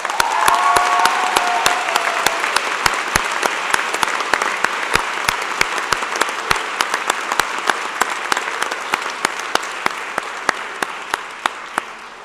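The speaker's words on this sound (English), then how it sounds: "Audience, let's have another round of applause for our student award winners." A convocation audience applauds student award winners with sustained, full applause, a few sharp individual claps ringing out regularly above the crowd as it slowly fades.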